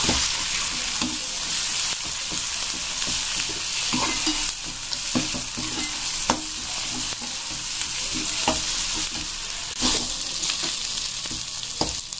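Masala paste for chana masala fries and sizzles continuously in a pan, close and loud, with stirring scrapes and small pops scattered throughout and no talking.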